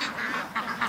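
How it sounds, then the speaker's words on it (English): Ducks in a yard quacking close by, several short nasal calls in quick succession over a brief moment. "The ducks refuse to leave the yard."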